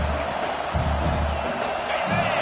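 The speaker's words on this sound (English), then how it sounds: "Man, this crowd really affecting the football game." A stadium crowd at an LSU vs South Carolina football game roars in a steady, dense wall of cheering noise, loud and unbroken, with no distinct voices standing out.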